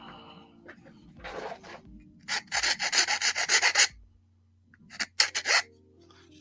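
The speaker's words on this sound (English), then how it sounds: "I might have to do a little bit of sanding on this." Rhythmic rasping strokes of hand sanding on a small model part, two bursts separated by a pause, close and fairly quiet.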